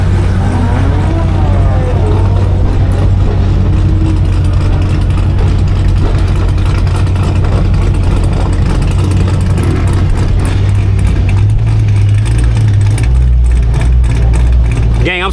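A Dodge Hellcat with its hood removed runs with a deep, loud, steady engine rumble, rising whine from the supercharger, and people talking over it throughout.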